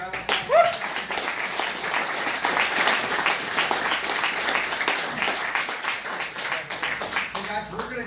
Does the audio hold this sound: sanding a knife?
no